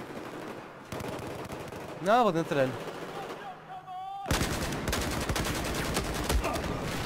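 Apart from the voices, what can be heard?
gunfire in video game Battlefield 4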